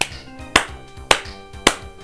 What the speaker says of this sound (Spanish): Aplaudí 4 veces